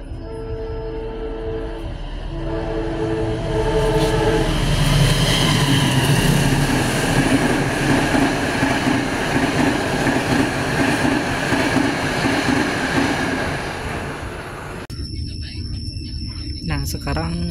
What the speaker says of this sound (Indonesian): Katanya disusul sama kereta api jarak jauh